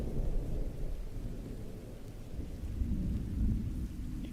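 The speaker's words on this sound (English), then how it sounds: "how's the thunderstorms, by the way? You liking them?" Thunderstorm ambience with steady rain and low rolling thunder plays softly and continuously, a dense low rumble with no talk.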